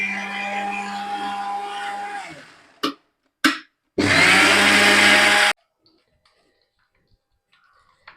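A mixer grinder blending coconut with water and chili powder whirs steadily and then winds down, followed by a couple of sharp knocks and a second short, loud burst of grinding before silence.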